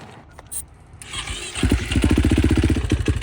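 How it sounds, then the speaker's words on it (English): A KTM 450 motorcycle with a badly worn, nearly blown engine is coaxed into starting, then catches and runs with a loud, rapid, even thumping beat close by. "The motor's like basically blown up, so it needs a little help to start."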